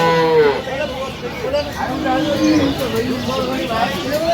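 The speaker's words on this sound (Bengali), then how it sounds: "সুন্দর গাভী বাছুর আমরা দেখছিলাম।" Dairy cows and calves at Aftabganj cattle market in Dinajpur call out with several drawn-out moos and bleat-like cries amid loud, busy talk from people nearby.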